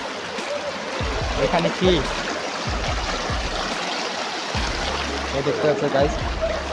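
A strong river current on the Digorkhal River rushes and gurgles steadily and close by, with a voice talking over the flow throughout.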